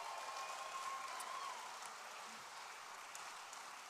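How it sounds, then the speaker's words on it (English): Sustained audience applause at a live Farm and Fun Time variety show, a dense, steady wash of clapping that holds for the whole stretch and eases slightly toward the end. "So give him a big round of applause."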